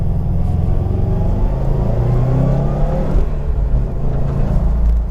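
A 2018 Subaru WRX STI pulls hard with traction control switched off, its engine droning loud and steady with a deep, rising rumble from inside the cabin.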